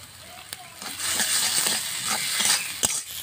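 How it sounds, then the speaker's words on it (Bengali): A spoon stirs grated potato with garam masala in a hot pan, giving a soft continuous sizzle with scraping strokes and a few sharp clicks against the pan, close and moderately quiet. "গরম মশলা দিয়ে আমি দু একবার নেড়ে চেড়ে নিয়েছি"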